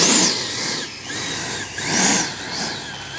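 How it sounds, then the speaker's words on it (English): An electric motor on a Freewing Yak 130 RC jet with a 70mm ducted fan whines steadily nearby, its pitch sweeping up and down in waves as the throttle is blipped. "Motor is on."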